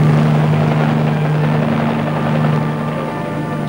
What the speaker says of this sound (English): When a helicopter comes in for a landing, it's a critical time.